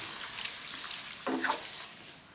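Beef liver stir-fries in curry paste and oil, giving a soft, steady sizzle with a few scraping stirs partway through. It sounds fairly quiet and close, with no talk.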